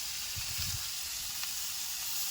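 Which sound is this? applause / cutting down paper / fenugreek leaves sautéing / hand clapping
fenugreek leaves sautéing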